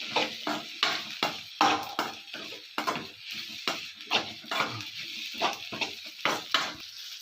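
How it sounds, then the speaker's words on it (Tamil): Veg kothu parotta is stirred and tossed in a sizzling pan, with quick, rhythmic scraping and clanking strokes of a metal spatula repeating steadily over a soft frying hiss. "நல்லா கிளறிக்கணும்"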